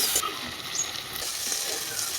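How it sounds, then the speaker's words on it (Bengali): Potatoes fry in a pan with whole cumin, onion, turmeric and salt, making a loud, close, crackling sizzle with stirring throughout. "আলুটা ভাজা হয়ে গেছে"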